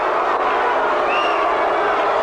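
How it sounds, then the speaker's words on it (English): A boxing arena crowd at a heavyweight fight between Larry Holmes and Ken Lakusta, giving a loud, dense, sustained roar of disapproval that fills the whole moment without any break. "And the crowd booing"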